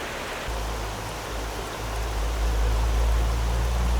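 Steady rain falls outdoors as a dense, broadband hiss, loud and continuous, with a low rumble swelling underneath partway through.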